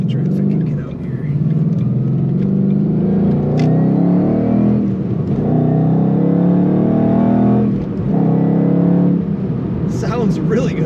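A 2012 Ford Mustang Boss 302 with a six-speed manual accelerates hard from inside the cabin with the windows up, its engine note rising steadily and dipping briefly between gear changes, loud and continuous, with someone talking over it.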